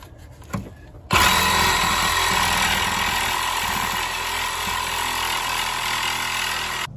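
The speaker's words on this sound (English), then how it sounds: "now we're going to try it out on the Ridgid compact saw" A Ridgid compact saw fitted with a Diablo carbide blade starts abruptly and cuts into a bolt, a loud, sustained high-pitched grinding whine that holds steady for several seconds after a short quiet lead-in.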